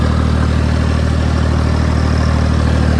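A John Deere tractor engine idles loud and close with a constant low throbbing rumble, unbroken for the whole stretch.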